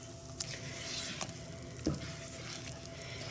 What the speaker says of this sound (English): I put the extra Crisco in here, and I'm going to stir it up